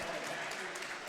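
Applause for a Panthers basketball player after a strong rebounding game at the LALSAC Basketball Championships, steady, fairly soft clapping from a gym crowd lasting the whole moment, with a faint murmur of voices underneath.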